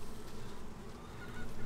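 Honey bees buzz around beehive frames fitted with small cell foundation, a steady close drone that swells slightly toward the end.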